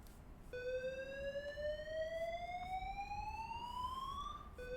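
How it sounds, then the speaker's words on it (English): An electronic fire alarm tone in a video game sweeps slowly upward in pitch, steady and continuous, with a synthetic quality and no voices. "we don't have to keep hearing that alarm going off constantly"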